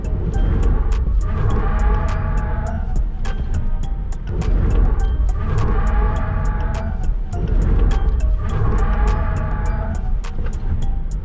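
BYD Dolphin electric car driving at 80 km/h, a loud steady interior road and tyre roar with regular rhythmic thumps from the surface, swelling and fading in cycles.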